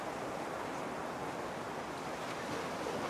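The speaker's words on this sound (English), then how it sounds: "you can hear the sound of the ocean" Ocean waves wash steadily at the entrance of a temple and monumental art exhibition, a continuous broad surf roar with a faint windy quality and no talking.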